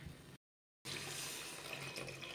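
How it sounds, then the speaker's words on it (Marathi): Water pours steadily into a pan of green chilli amti curry, a close, continuous splashing stream broken by one short gap of silence, with no talk. "आता आपण यामध्ये पाणी ओतणार आहोत."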